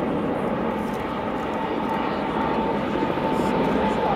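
Airbus A380 airliner at an airshow, a steady, loud broadband jet roar that holds constant throughout, with a voice talking over it.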